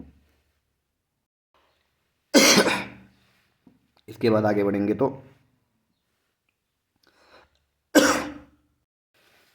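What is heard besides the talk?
coughing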